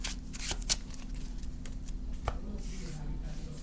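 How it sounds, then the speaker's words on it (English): A Salamangreat trading card deck being shuffled by hand, with a quick papery riffling and a few soft snaps close up over a low background hum. "We're gonna shuffle."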